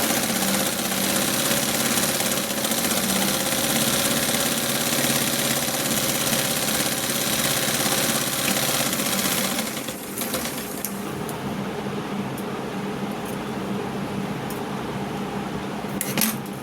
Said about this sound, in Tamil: அதே மாதிரி இன்னொரு கையையும் வச்சு ஸ்டிச் பண்ணிடணும்.